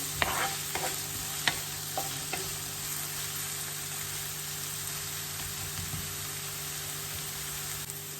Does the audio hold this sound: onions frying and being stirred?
yes